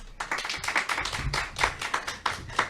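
An audience at an Urban League gala applauds award winners, a brisk burst of clapping from many hands, close and fairly loud, with an uneven rhythm throughout.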